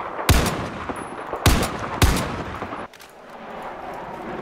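Gunfire in a PC shooting game, three heavy, booming shots in quick succession within two seconds, close and loud, each with a short rumbling tail, then a lull of game ambience.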